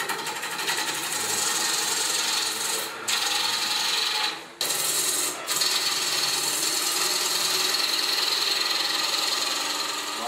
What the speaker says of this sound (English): I need to take it a little easier on this lathe or I'm just going to stall everything